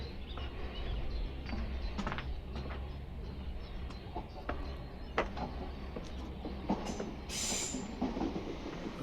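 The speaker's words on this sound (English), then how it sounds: "And there's a southern train on its way to Victoria, next stop, Mitcham Junction." A Southern passenger train bound for Victoria runs along the Mitcham Junction to Hackbridge line, a steady rumbling rush of wheels on rail with intermittent clicks and a brief high squeal, heard fairly close throughout with no talking.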